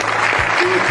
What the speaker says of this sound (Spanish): a quien le mandamos un aplauso